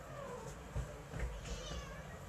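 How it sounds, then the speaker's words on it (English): A pet cat gives a few soft meows indoors, faint and close, over a steady background hiss. "That's my cat."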